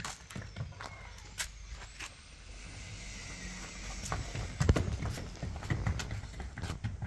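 Young foals being led on halters make irregular hoof clops on the ground, soft and somewhat distant amid outdoor background noise, with a few louder steps near the end and no talk heard.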